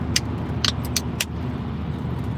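A car cruising fast on the German Autobahn, heard from inside as a steady low road and engine rumble, with a few brief high clicks or jingles over it. Nobody speaks.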